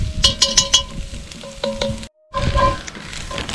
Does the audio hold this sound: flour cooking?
yes